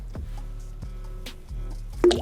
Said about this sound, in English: So now we're gonna drop the pasta.